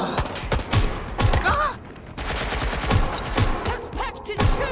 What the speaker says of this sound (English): Suspect is shooting! Getting to cover!